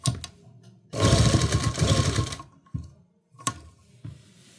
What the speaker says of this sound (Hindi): और आराम से ही हमें यहाँ पे सिलाई करनी है।